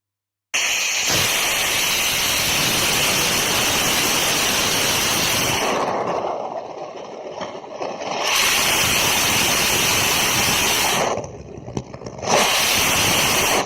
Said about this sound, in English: You may also have heard the engine oscillating on and off.